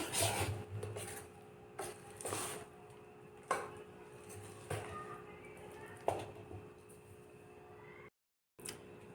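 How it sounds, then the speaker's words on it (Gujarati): A spoon scrapes and rubs around a bowl while stirring dhokla batter mixed with turmeric, a soft rasping swirl with several louder knocks against the side, close and quiet, with no talking. "હળદરને બધું નાખી અને આપણે સરસ એને હલાવી લઈશું"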